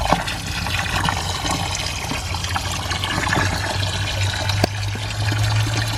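Water runs and splashes steadily into an aquaponics tank in an urban-sized system, a loud, close pouring wash with a low rumble underneath and no talking.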